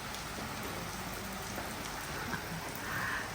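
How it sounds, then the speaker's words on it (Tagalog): Heavy rain pours at night in the Queensland countryside, a dense, even hiss of drops hammering surfaces that holds steady throughout, with no voices. "Ang lakas ng ulan, pabigla-bigla naman umuulan."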